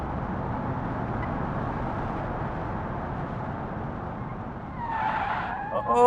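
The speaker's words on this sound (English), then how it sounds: "And then I spun out again in the same spot" A car in the BeamNG driving game skids and spins out, a sustained roar of tire scrub and engine noise that swells near the end with a brief squeal.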